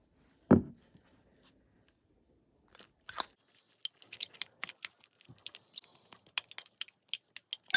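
Homemade no-glue slime with shaving cream is mixed by hand, giving sticky, wet squelches and crackly pops in an irregular rhythm. The sounds are close and soft, preceded by a single thump and a quiet pause.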